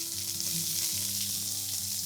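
A United Harvest Angus rib eye steak sizzles steadily in a hot pan, a close, even crackling fry with a low hum beneath it, continuous and unbroken.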